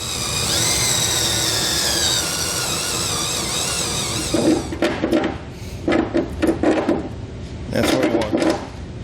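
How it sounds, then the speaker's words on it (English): A power drill with a step bit bores out a hole while installing a B and W base rails kit on a 2013 Ram 2500. A steady whining spin gives way to several loud, grinding bursts of cutting. "I'll start drilling out the hole and I'll drill it just big enough where I can slide this down in there"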